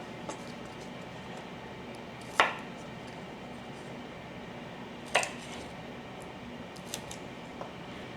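Two sharp, crisp cuts trim the dry ends and roots off small garden vegetables on a cutting board, spaced a few seconds apart against a quiet kitchen background, with a couple of faint taps afterward.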